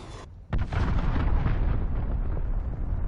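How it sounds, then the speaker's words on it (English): Cruise missile launch and explosion in a video game: a brief high hiss cuts off, then a heavy, loud boom erupts and rolls on as a dense rumbling roar that slowly fades over several seconds. "cruise missile launched"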